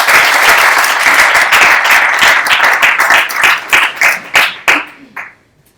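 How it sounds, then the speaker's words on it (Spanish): A seated audience at a Spanish public event against glorifying terrorism claps loudly and densely. The applause starts full, then thins into scattered separate claps and dies out into silence. "Un fuerte aplauso para todos ellos."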